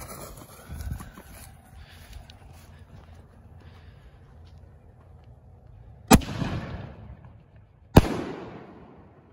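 Two sharp booming reports from a firework canister shell launched out of a mortar, a brocade crown breaking to white strobe, each followed by a crackling, fading tail, after quieter outdoor ambience.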